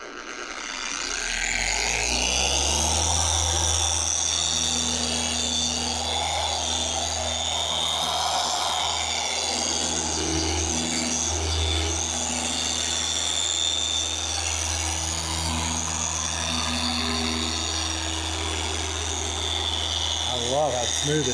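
An Adams Mini SK Pro 3-inch polisher runs on car paint with a steady, loud, droning motor hum and a smooth whir that holds almost unchanged for about twenty seconds, close by.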